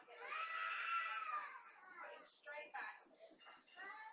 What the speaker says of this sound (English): Sorry if you hear screaming in the background.